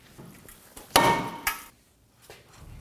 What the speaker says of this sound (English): we're going to use our hammer to go ahead and break this free